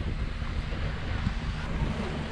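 Sea waves at the quiet Williamstown seaside in Melbourne wash in a steady broadband roar, mixed with wind buffeting the microphone, with no talking.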